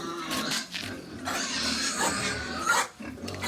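Pigs on a small farm grunt and squeal in a busy, overlapping stream, some calls close and deep, others sharper, with steady rustling and background clatter throughout.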